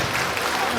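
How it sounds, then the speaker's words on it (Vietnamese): A crowd at the opening ceremony of a Vietnamese Tet festival in Montreal applauds, a dense, steady burst of clapping that fills the whole brief moment. "một tràng pháo tay rất lớn cho Thượng nghị sĩ Canada, bác Ngô Thanh Hải."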